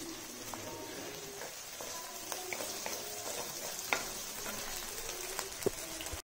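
Curry leaves crackle in hot oil with sliced garlic while cooking mutton kolambu, a steady close sizzle with a few sharp pops and stirring clinks over about six seconds.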